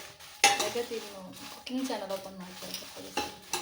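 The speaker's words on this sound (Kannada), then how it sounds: "ಸ್ವಲ್ಪ ಎಣ್ಣೆ ಹಾಕ್ಕೊಂಡು ಅದಕ್ಕೆ ಕೆಂಪು ಮೆಣಸನ್ನು ಹಾಕೊಂಡು ಹುಡಿಬೇಕು" Red chillies roasting in a little oil in a pan, with a soft sizzle and repeated scraping and clattering of a spoon stirring, plus faint background voices.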